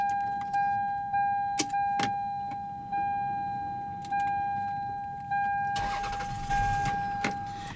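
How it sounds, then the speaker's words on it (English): A 2000 Toyota Camry XLE with a 3.0 L V6 sits with a steady electronic tone and faint clicks before its engine cranks and catches, settling into a low idle rumble near the end. "what you're hearing there is a 3-liter V6"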